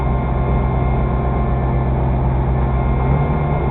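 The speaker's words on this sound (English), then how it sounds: "it's just an exhaust vibration is all I'm getting right now" A motorcycle engine drones steadily while riding, carrying a low, buzzing exhaust vibration that disappears once the clutch is pushed in. The sound is loud and close, a continuous rumble with no pauses and no speech.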